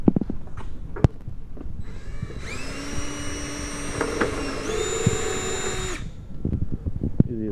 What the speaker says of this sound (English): you'll drill out that hole for your collector